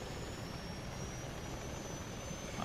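Helicopter from Call of Duty Ghosts flying away, a steady broadband rotor and turbine roar with a thin high whine, holding fairly even and distant without speech.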